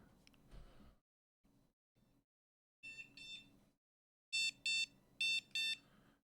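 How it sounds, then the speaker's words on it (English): Sharp electronic beeps sound in short, evenly spaced bursts after some quiet rustling and soft handling noises, fairly close and clear. "you can hear the beeps"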